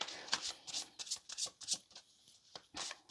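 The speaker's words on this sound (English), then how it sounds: "Give it a few more shuffles, and then I'll cut the deck." Crisp, rapid bursts of tarot cards being riffled and shuffled, close up, in quick repeated flurries with short pauses between them.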